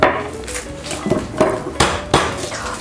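Ingredients for Aragonese migas being crushed in the kitchen, several sharp, irregular knocks and clinks of a utensil against a bowl or board, close and fairly loud.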